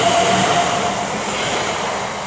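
Passenger train passing through Erdington station, a steady loud rumble of wheels and carriages close by with a brief thin squeal early on, no talk.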